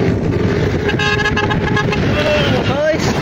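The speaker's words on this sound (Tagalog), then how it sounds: "kung narinig niyo po yung nagbubusina sa atin guys, si Sir Elmer Cabasal po yun guys" A passing vehicle's horn honks repeatedly on a road while someone exercises outdoors, heard over loud wind and traffic noise with a voice talking.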